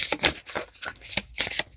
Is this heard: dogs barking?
no